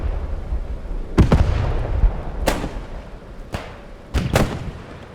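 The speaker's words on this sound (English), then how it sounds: "It's like German artillery is going down." German artillery fire in the World War II shooter Post Scriptum: several heavy booming blasts, some close together as doubled impacts, each with a rumbling tail over a low background rumble.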